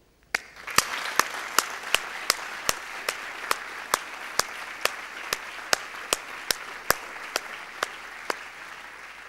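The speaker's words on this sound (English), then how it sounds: "give you a well-deserved round of applause" Audience applause fills a graduation ceremony hall, a steady wash of many hands clapping, with louder individual claps punctuating it at regular intervals, sustained throughout without voices.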